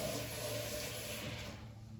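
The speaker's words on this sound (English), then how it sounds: "Wash your hands." Running water gushes steadily from a tap while hands are washed, a close continuous wash that softens slightly at the end, with no talking.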